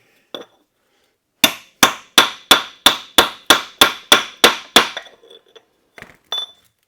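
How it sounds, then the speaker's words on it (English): A brisk run of about ten evenly spaced metallic hammer taps with a ringing edge, followed by a few softer knocks and clinks, as a part is seated flush on a 727 transmission from a 1964 Chrysler New Yorker. "Use a real hammer."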